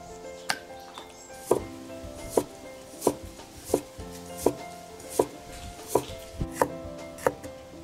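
A knife chops through chicken wings on a cutting board in a home kitchen, about a dozen sharp, fairly regular thuds spaced under a second apart, close and clear with no talk.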